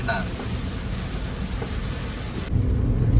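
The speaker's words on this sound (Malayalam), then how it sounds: "ഇതാ മഴ ഇതുവരെ നിന്നിട്ടില്ല മഴ" Heavy rain drums steadily on a moving car near Palakkad, a dense close roar heard from inside the cabin that deepens and grows louder near the end.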